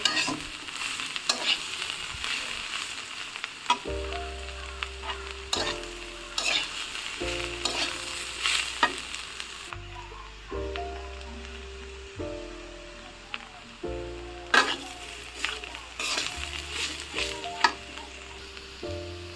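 Young jackfruit frying in a pan for a Manikganj-style echor bhaji, with a steady sizzle and stirring scrapes recurring throughout, under a soft musical backing.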